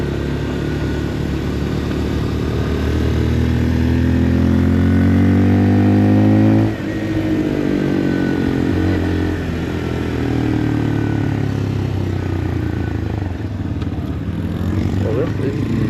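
A Papio SS mini-moto motorcycle ridden at full throttle, its engine droning loud and steady with rising and falling pitch as it revs, dipping briefly midway, while a rider talks over it.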